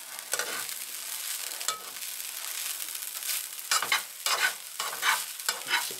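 Cilantro and garlic sizzle in olive oil in a pan, a steady close frying hiss broken by repeated bursts of stirring and flipping, with no talk.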